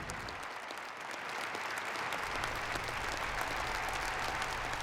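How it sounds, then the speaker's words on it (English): An arena crowd gives a standing ovation to first responders, with dense, sustained applause that swells slightly and carries on loudly throughout, a sea of clapping hands. "Another emotional standing ovation tonight took place for the first responders in the crowd"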